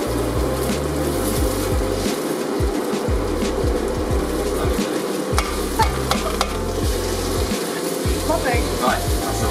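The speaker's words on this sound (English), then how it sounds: "we just turned the heat down so that will just cook slowly" Scallop paella in a pan over lowered heat, a steady sizzle and bubbling with repeated scraping stirs of a utensil against the pan, close and continuous, with faint voices in the background.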